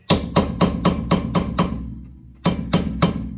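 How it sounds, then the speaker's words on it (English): A chisel struck with a hammer against a rusty rear wheel bearing dust cap on a 2006-2010 Volkswagen Jetta, six sharp metallic blows in an even rhythm, a short pause, then three more, loud and close. "get you a chisel or something strong. Remember, a lot of rust. Hit it."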